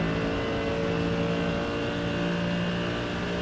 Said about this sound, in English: Adam coming out of that final turn on the power.